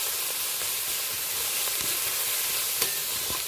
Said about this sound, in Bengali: পেঁয়াজ, রসুন আর চিংড়ি মাছ অল্প তেল দিয়ে আমি ভেজে নিচ্ছি।